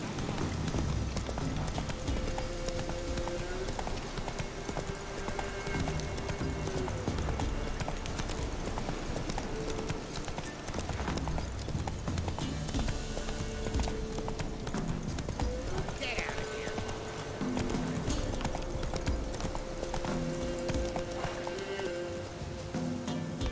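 A horse gallops in The Witcher 3, with rapid, steady hoofbeats running continuously and loud, while a voice speaks over the clatter.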